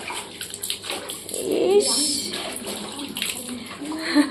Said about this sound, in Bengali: আমার দাদার মেয়েকে এখন স্নান করিয়ে দিচ্ছে বৌমনি।